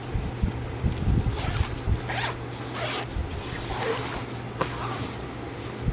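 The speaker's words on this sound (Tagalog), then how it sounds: "Ganyan yung sa zipper." A zipper on a dustproof clothes rack cover is pulled along in quick ripping strokes, close and fairly loud, with a low steady hum in the background.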